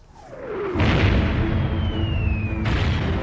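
A German First World War artillery barrage sound effect opens with a descending whistle and then erupts into a loud, sustained rumbling roar of explosions with a shrill tone across it, followed by a fresh burst near the end.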